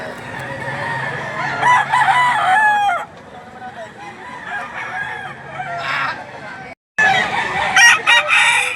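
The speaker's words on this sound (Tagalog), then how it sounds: "Mga pikom na stag pa lang." Roosters and young stags crowing at a Lipa City, Batangas chicken market, loud and near with clucking and overlapping calls, one short gap, and some crowd noise behind.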